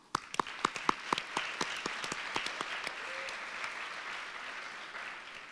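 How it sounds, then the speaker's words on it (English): An audience at a charity business-pitch competition final breaks into applause, starting with a few sharp, separate claps that quickly merge into a steady, moderately loud patter of many hands for several seconds, then fading slightly. "Let's give them a round of applause."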